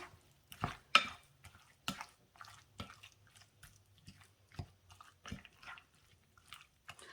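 Crab meat dip with dill and Old Bay seasoning being stirred in a bowl, soft wet squelches and light scrapes in an irregular rhythm, close and quiet with no talking.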